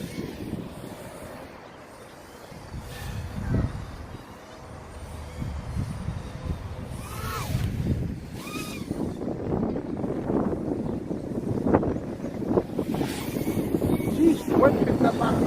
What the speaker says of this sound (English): the wind picked up out of nowhere